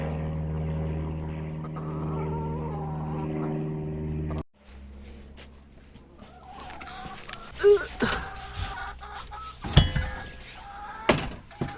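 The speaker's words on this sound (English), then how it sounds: "Look at all the chickens." Backyard coop chickens cluck in scattered bursts, close by, first over a steady low droning hum and then among knocks and rustling thumps.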